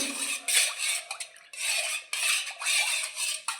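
White vinegar stirred into water in a metal vessel for washing thick blankets by hand, a close swishing, scraping churn repeating in steady strokes with brief pauses, no talking.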